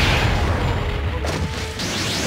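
A thunder crash from the Kirin jutsu in the video game Naruto Shippuden Ultimate Ninja Storm 4 gives a loud, broadband rumbling boom. It rolls on for a couple of seconds with a sharp crack near the end.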